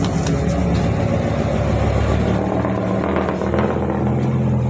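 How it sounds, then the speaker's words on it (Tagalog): A loud, continuous rumble of a dump truck's heavy engine going by, dense and noisy throughout with no talking. "Ingay pa yung tumaan na dump truck."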